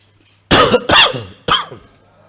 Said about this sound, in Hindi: आ रही है खांसी, ये तो अंदर से आ रही है